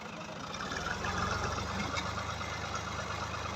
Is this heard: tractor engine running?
yes